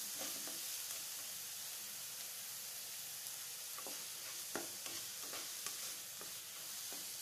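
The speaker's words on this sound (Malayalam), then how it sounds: "ഇനി ഇത് നമുക്ക് നന്നായിട്ടൊന്ന് ഇളക്കി കൊടുക്കാം." Chopped shallots are stirred in a frying pan over a soft, steady sizzle, with occasional scraping taps of the spoon against the pan, quiet and close, with no voices.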